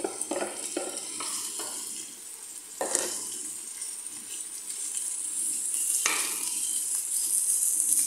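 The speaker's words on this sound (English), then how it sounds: "then I will add my minced beef" Minced beef sizzles loudly in a hot pan, with a spoon scraping and stirring at irregular moments, sharpest around the start, the third second and the sixth; the frying hiss builds steadily and no one speaks.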